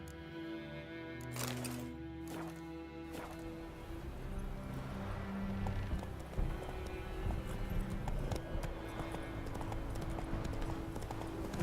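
Steady clip-clop of horse hooves trotting in the video game The Witcher 3: Wild Hunt, rhythmic and fairly close, over a low rumbling background with occasional sharp clicks.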